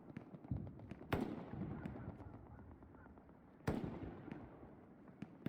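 Gunfire and rocket fire in an 18-versus-18 Hell Let Loose match: two sharp, loud blasts stand out a few seconds apart over a low, rumbling battlefield background, with fainter scattered pops between them.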